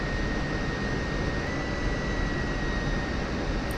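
An F-16C jet idles and rolls slowly along a taxiway in DCS World, a steady broadband engine roar with a thin high whine running throughout, no talk.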